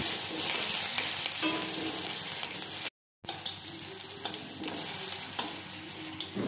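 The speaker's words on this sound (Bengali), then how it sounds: "সেই আলুটাকে আমি চার পিস করে নিয়ে ভেজে নেব" Potato pieces fry in mustard oil in a wok with a steady, close sizzle and crackle, broken by a brief moment of silence before the frying resumes.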